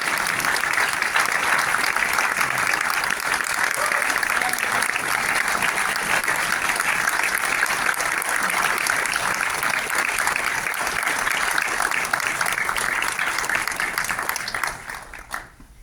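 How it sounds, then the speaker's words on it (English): A dense round of audience applause after a film screening Q&A at Sundance, loud and steady throughout, thinning and fading out in the last second or two. "Please give us a round of applause."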